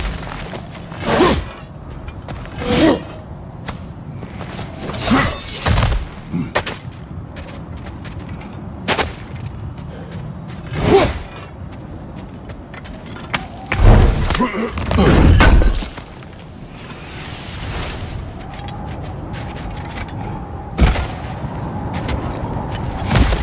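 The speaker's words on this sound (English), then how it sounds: "Back to smashing through things for fun and profit." In God of War Ragnarok, objects are smashed and broken in a string of loud, separate crashes and shattering impacts. The hits are spaced irregularly over a low background, with a heavier burst of breaking around the middle.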